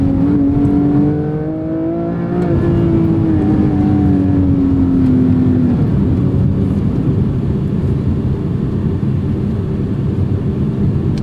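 Porsche 718 Cayman GTS 4.0 naturally aspirated engine heard from inside the cabin, a loud steady drone with a rising then falling note in the first half, settling into a continuous cruising roar.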